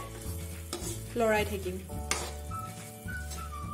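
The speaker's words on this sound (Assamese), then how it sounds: "লৰাই থাকিব যাতে গুড়খিনি লাগি নাযায় কেৰাহীখনত" A utensil stirs thick, sticky melting jaggery in a pan with a soft sizzle, scraping now and then, with a few sharp clinks of metal.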